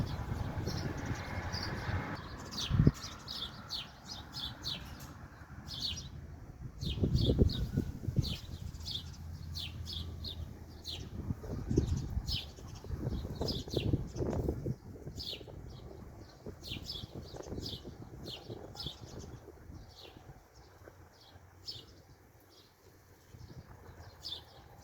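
Sparrows gather at a water dish, chirping in quick repeated bursts over a quiet background, with a few soft low whooshes of wings flapping nearby.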